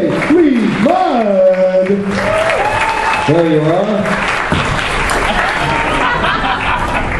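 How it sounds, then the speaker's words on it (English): A convention crowd applauds steampunk costume contest winners as they come on stage, loud continuous clapping running beneath an announcer's amplified voice and some laughter. "A round of applause for all of our winners as they come on"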